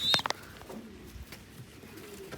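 A homing pigeon coos softly and low, quiet but near, after a few sharp clicks at the start.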